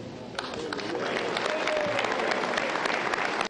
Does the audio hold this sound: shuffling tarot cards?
no